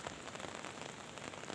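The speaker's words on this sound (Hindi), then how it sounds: "लगातार बारिश हो रही है।" Steady rain falls in the Yamuna valley at Barkot, a dense, even patter on surfaces, fairly faint and continuous with no voices.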